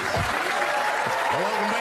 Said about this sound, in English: Some more applause for Dave,